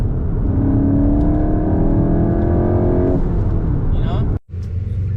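A manual VW Golf Mk8 GTI accelerates from inside the cabin, its engine note rising steadily in pitch for about three seconds before a gear change cuts it briefly, then the drone resumes lower under road rumble.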